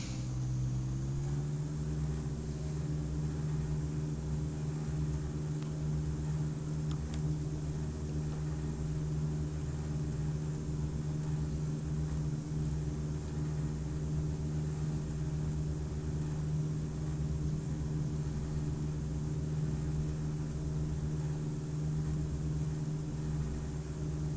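A Diamond DA40NG light aircraft in a flight simulator game powers up for takeoff, a steady loud engine drone whose pitch rises in the first seconds and then holds evenly throughout.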